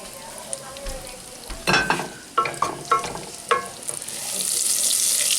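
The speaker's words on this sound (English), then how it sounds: "You can hear it popping in the oil." Sauce ingredients for a spicy pizza sauce pop and sizzle in hot oil, with several sharp crackling bursts and a steady frying hiss that swells toward the end.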